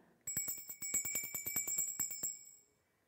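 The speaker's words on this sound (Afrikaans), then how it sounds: "Hierdie bel is die eerste ene vir my." A small bell is struck rapidly about a dozen times in a quick, even run, ringing clear and close with no voices.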